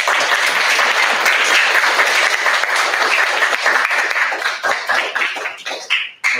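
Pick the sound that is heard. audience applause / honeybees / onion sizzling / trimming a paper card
audience applause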